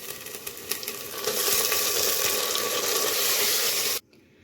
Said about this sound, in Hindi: अब हम इसमें 500 ग्राम्स मटन डालेंगे विद बोन।